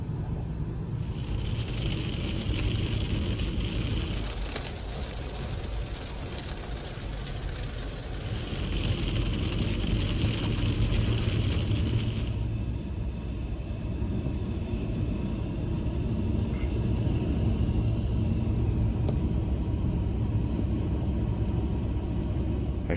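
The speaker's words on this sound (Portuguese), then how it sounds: "A chuva dessa vez tinha vindo para ficar e acompanhou a gente o dia todo." Steady rain and road rumble inside a rented car driving north toward Joffrey Lakes Park in western Canada, a continuous close wash of noise with hiss from the windshield that eases partway through, no talk.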